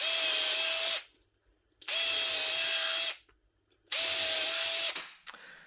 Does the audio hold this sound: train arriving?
no